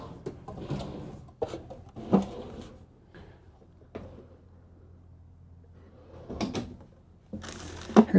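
A large soft-closing drawer in a 2024 Renegade Explorer 40ERB RV slides and settles shut with several soft knocks and thuds spread across quiet pauses, close and fairly faint.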